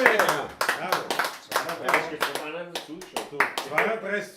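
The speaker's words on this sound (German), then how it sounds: "Jetzt geben wir noch einen Applaus für alle, die noch da sind." Applause from the audience of a Wienerlied livestream comes in short bursts of clapping under near-constant talk from a voice.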